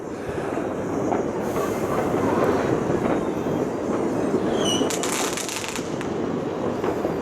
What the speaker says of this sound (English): We've got fireworks over there. We've got big booms over there, launched from a 10th floor